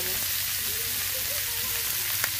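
Leafy greens with potato and eggplant frying in a pan, a steady, even sizzle with a faint clink near the end.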